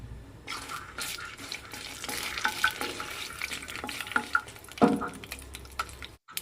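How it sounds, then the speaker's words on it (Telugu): Cumin and mustard seeds fry in hot oil, a quiet sizzle broken by scattered crackles and pops with occasional stirring scrapes, ending abruptly. "ఆయిల్ బాగా వేడెక్కిన తర్వాత ఇందులోకి కొద్దిగా జీలకర్ర వేసుకోవాలి అలానే కొద్దిగా ఆవాలు కూడా వేసుకొని వేయించుకోవాలి"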